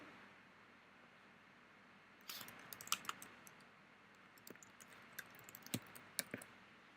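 Keys on a computer keyboard tapped in an irregular burst of crisp clicks, close and fairly soft, starting after two seconds of quiet room hiss, with no voices.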